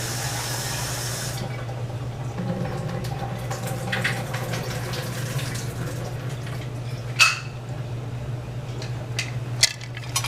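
Food being rinsed under a running kitchen tap, a soft steady stream of water with a low hum beneath and a few light clinks and splashes near the end, faint and without speech.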